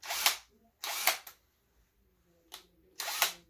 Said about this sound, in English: So I'm going to have to drill this hole out so I won't have any snags.